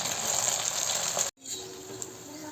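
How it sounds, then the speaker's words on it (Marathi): Rava vadas made from semolina dropped into hot oil and deep frying, a loud steady hissing sizzle that cuts out briefly and then resumes, with no voices. "आता आपण ह्या तेलात सोडूया आणि छान लाल रंग येईपर्यंत तळून घेऊया वडे"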